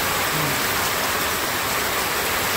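Heavy rain pours down as a steady, dense hiss that stays loud and unbroken from start to finish, with no voices over it.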